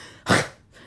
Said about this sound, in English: it sounds like a sneeze, but I'm clearing my throat.